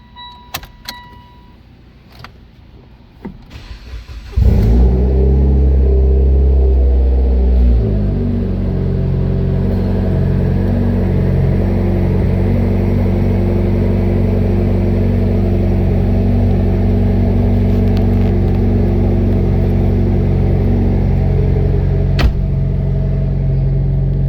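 2015 Mitsubishi Lancer Evolution Final Edition engine cranks and catches with a loud surge, settling after a few seconds into a steady, deep, rumbling idle up close, with faint clicks and key sounds before the start.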